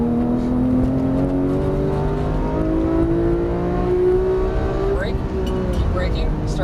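A Porsche 991 GT3 on a race track, its engine note rising steadily as it accelerates, loud and close throughout, with a voice talking over it.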